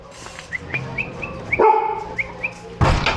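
A dog barks a few times, sharp and fairly close, with small chirpy sounds in between and a louder burst at the end.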